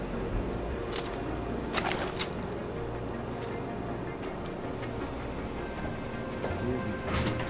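Rain in the video game Deus Ex: Mankind Divided, a steady close patter on surfaces with scattered sharper drops and faint bird calls in the background, continuous and even throughout.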